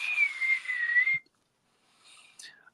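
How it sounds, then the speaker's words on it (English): A small, high, wavering whistle call from the film Mothra, heard for about a second, then a fainter chirping whistle that ends in a quick rising sweep. "Little Mothra whistle."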